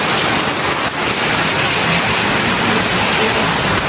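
Heavy rain pouring down outside, a dense, loud, unbroken hiss of falling water, steady throughout with no voices.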